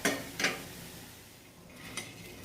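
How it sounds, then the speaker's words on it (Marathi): Mung beans being dry-roasted without oil over a low flame, with two quick scraping stirs in the pan at the start, a quieter stretch, then another stir near the end, close and fairly soft. "भाजून घ्यायचं जास्त भाजवायचं पण नाही असं हलवायचं"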